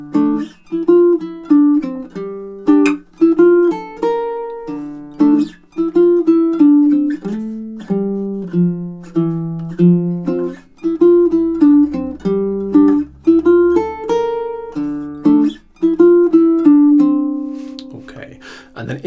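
Baritone ukulele plays measures 11 to 17 of a melodic riff, a steady stream of plucked notes in repeating phrases with short gaps, close and clear, closing on a sustained note.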